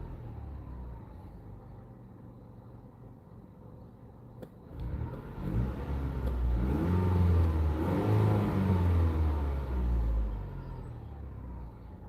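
A car engine under repair idles quietly and evenly at low rpm, then is revved into a louder, rising and falling growl for several seconds before easing back toward idle.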